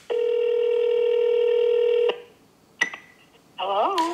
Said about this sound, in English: My grandma called and gave a call back.